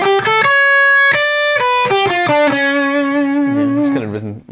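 A distorted electric guitar plays the opening of a triplet lick, a few quick picked notes followed by held tones, close and loud, ending in a wobbling bend.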